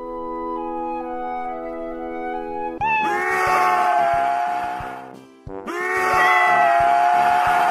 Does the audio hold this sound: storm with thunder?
no